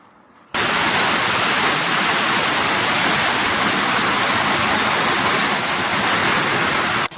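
Heavy rain pours outside a house, starting abruptly after a brief quiet moment and holding as a dense, loud, unbroken hiss until the end.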